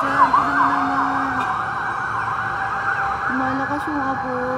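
A fire truck siren wails loud and steady as the engine arrives at a nighttime fire near SM Santa Mesa, with a lower warbling tone cutting in and out over the rising and falling siren.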